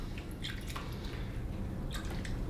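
Water poured into a potted plant and draining through the soil, soft irregular drips and wet trickles, quiet and close with no voices.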